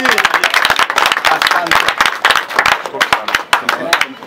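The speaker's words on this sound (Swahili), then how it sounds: "Wapi makofi jameni?" A crowd applauds the opening of new NG-CDF government offices with continuous, close clapping that thins near the end, while a voice talks briefly over it.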